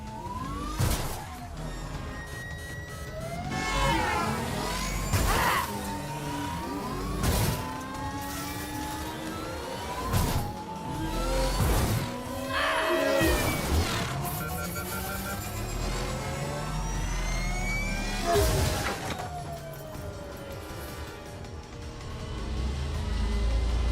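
Video game car chase with engines revving and whining through repeated pitch sweeps, tires and crashes punctuating the loud, continuous racing noise.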